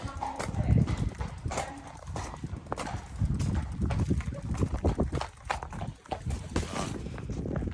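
A horse's hooves clip-clop steadily while being ridden outdoors, a continuous close rhythm of hoof strikes with voices talking intermittently over it.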